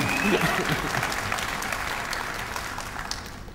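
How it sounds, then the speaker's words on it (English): An audience at a medical congress gives a round of applause, a full burst of clapping that stays steady and slowly tapers over a few seconds, with some voices mixed in. "Let's give him a round of applause for at least trying."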